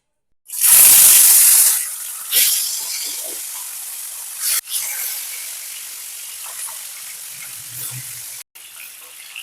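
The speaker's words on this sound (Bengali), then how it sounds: "এরপর এই ম্যারিনেট করা মাছগুলোকে আমি তেলের মধ্যে ভেজে নেব" Marinated gurjali fish pieces hit hot oil with a loud, bright burst of spitting sizzle that gradually settles into a quieter steady crackle, with a few small clicks and a brief dropout near the end.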